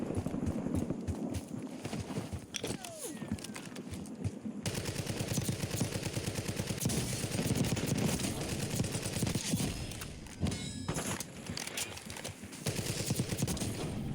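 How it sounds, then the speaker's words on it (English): Gunfire in Warzone at Verdansk cracks in rapid, dense bursts, sometimes near and sometimes more distant, broken by short pauses. "Still don't know who's shooting at me"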